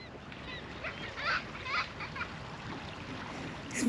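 Faint bird calls sound intermittently over quiet surf and water at a seashore at low tide on Alaska's Kenai Peninsula, a few short cries clustered near the middle with soft ambient wash around them.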